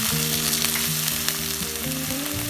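Loud, continuous sizzling comes from a pan being sautéed for egg roast, with stirring scrapes over steady tonal music underneath.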